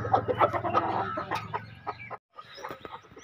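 Chickens clucking and squawking close by in quick, irregular bursts, followed by a short pause and a few softer clucks.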